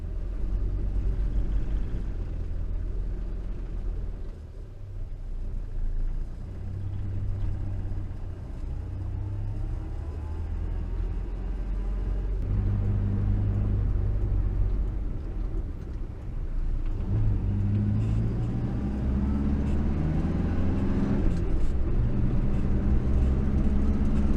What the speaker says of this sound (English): Exhaust note when we take the foot off the accelerator, little raspberry.